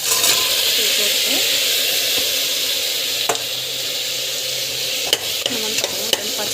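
Tomatoes sauté with curry leaves and salt in a pan, a loud, close, steady sizzle broken by a few sharp spatula scrapes and knocks against the metal.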